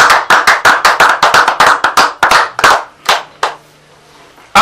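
A church congregation claps together in acclaim, a run of about a dozen loud, crisp, evenly spaced claps that slow and thin out before stopping, with a faint tone lingering afterward.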